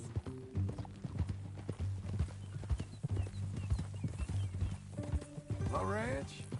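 Horse hooves clip-clopping at a steady walking rhythm in the Red Dead Redemption 2 video game, close and clear under a low ambient bed, with a horse whinnying near the end.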